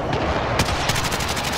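Gunfire in a shooter video game: a dense, loud rattle of close shots with a sharp burst midway, then a steady fast rhythm of rounds, no talking.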